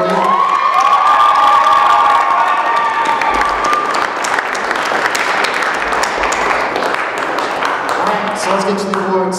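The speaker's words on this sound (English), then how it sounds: "Let's hear another round of applause for our wonderful host" A school talent show crowd applauds and cheers loudly for the hosts, with close clapping, children shouting and whooping over a continuous roar, easing slightly after a few seconds before voices rise again near the end.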